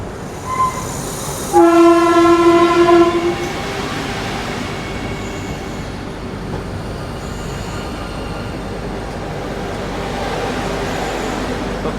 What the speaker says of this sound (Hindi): तो ये है अपनी आनंद विहार अयोध्या कैंट वंदे भारत एक्सप्रेस।